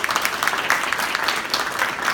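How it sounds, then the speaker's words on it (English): Audience applause for a panel of speakers at an expo forum, a steady, dense round of clapping from a sizable crowd, loud and continuous throughout. "Give them a round of applause."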